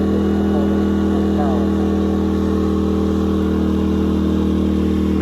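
Westinghouse iGen 2200 inverter generator engine running under heat gun load, a loud steady humming drone at raised RPM close by, with a person talking over it.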